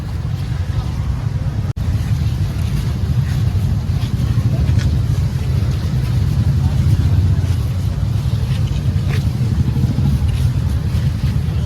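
A steady, low engine rumble of motorbikes rolling along slowly in a bikers' rally at Patuli, Kolkata, continuous and close, with no pauses throughout.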